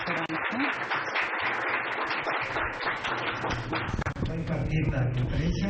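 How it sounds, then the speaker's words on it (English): Audience applause for a speaker at a Japan and TPP business conference, a continuous patter of clapping in a hall, fairly close, with talking heard over it near the end. "An applause for Mr. Mobarak."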